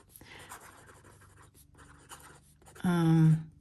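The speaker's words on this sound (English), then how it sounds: "I'm going to write that down." A pen writes in a planner, soft close scratching strokes in short bursts, ending with a brief louder squeaky scrape, with a faint voice in the background.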